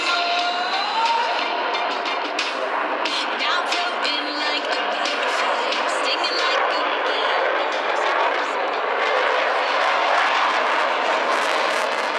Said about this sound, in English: Executing a minimum radius turn now, showing just how tightly the Typhoon can turn.